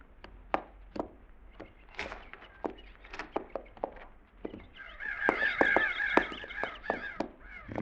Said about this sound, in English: Them crows we flushed back there and went back to eating again